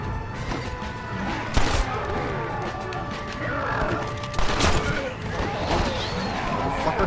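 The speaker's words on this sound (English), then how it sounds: "Are you shooting at me?" Gunfire in a zombie shooter game, two sharp loud shots standing out from a busy game soundscape, with a voice speaking over it.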